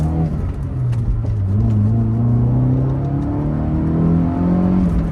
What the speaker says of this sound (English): Man, that engine's nice and smooth.